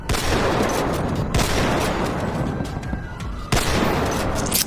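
Sustained heavy gunfire fills a GTA V roleplay shootout between police and gangsters, a loud, dense automatic burst running almost without break, with a brief dip and then a fresh volley.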